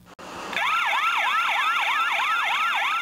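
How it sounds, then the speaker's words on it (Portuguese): A panic-button totem siren for the Municipal Guard at a Carnival street post wails loudly and nearby in a fast, regular up-and-down cycle after a brief moment of background noise. "Quando essa sirene tocar, é sinal de emergência para a Guarda Municipal"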